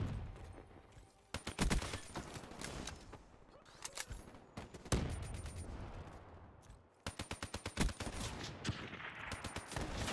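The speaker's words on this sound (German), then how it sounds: "Weil überall sind Schüsse." Rapid bursts of Call of Duty: Black Ops 3 multiplayer gunfire crackle in quick volleys, with short pauses between sustained automatic strings of shots.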